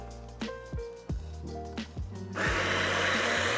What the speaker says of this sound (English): Insert the portafilter into the grinder forks and press the play button.